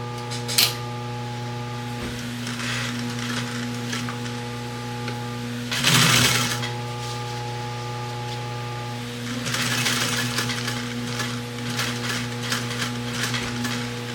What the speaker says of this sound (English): I'm going to sew back a few inches